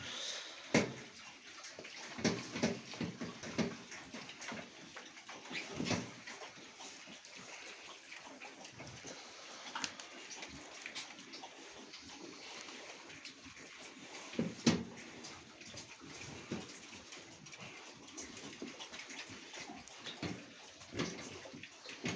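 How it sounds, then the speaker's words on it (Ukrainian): Steady rain falls outside near a pig-fattening barn, a soft continuous patter and hiss with occasional louder drips and knocks, fairly faint throughout. "На вулиці в нас дощ."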